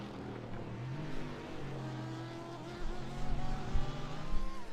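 A race car engine whines in iRacing during the 12 Hours of Suzuka, a thin, buzzing, mosquito-like tone that rises and falls in pitch and swells louder toward the end.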